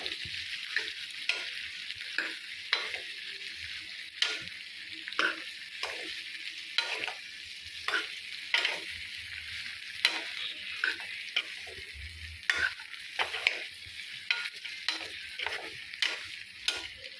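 Okra and onions sizzle gently in a pan over low heat, a steady soft frying hiss broken by repeated spoon scrapes and stirring clicks.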